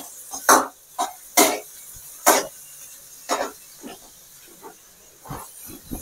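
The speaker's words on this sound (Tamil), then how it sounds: "வெங்காயத்தை நல்லா வதக்கணும்." Onions with curry leaves are sautéed in a pan for masala onion rice, giving loud, hissing bursts of sizzle at irregular intervals as they are tossed, with quieter gaps between and no speech.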